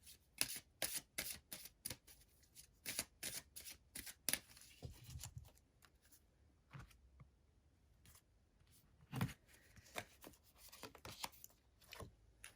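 Yule oracle cards are shuffled and drawn close up, with rapid bursts of crisp flicking and snapping. A quieter stretch of shuffling follows, then a few more taps and riffles.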